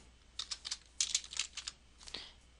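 Typing a test name on a computer keyboard, a quick run of light, close key clicks in short bursts, quiet and with no talking.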